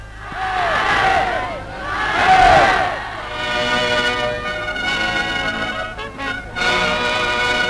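Packed stadium crowd at the 1936 Olympics opening ceremony in Germany, roaring and cheering in large swells, dense and loud, with a narrator's voice over parts.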